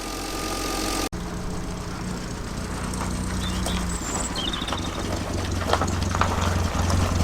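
A 1950s car, a Renault 4CV or Standard 8, idles steadily while warming up, a low continuous engine rumble close by that runs without pause after a brief cut near the start.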